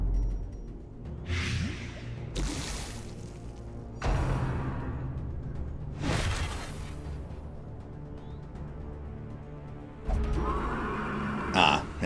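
In the video game Darkest Dungeon, a plow horse enemy lets out several whooshing neighs and whinnies over a low, droning game soundtrack, each burst separated by quieter stretches.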